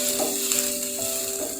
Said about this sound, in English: So here it's frying here.